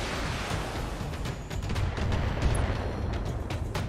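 Dense, rumbling battle noise from mech weapons fire in the turn-based game Battletech, including an AC-5 autocannon, a loud continuous wash of booms and crackling impacts lasting a few seconds with no talk.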